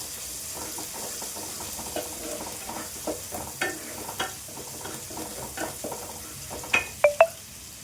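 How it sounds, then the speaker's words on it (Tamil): Onions sauté in a pan for sambar, with a soft continuous sizzle broken by stirring scrapes and a few sharp, close clinks of the spoon against the pan near the end. "வெங்காயம் வதக்கட்டுங்க."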